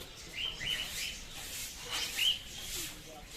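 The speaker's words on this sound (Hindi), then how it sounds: "ये कोकाटिल है और इसे लव बर्ड्स भी कहते हैं" Cockatiels at Patna Zoo give a few short, high chirps in two brief bursts, moderately close, with a voice talking faintly underneath.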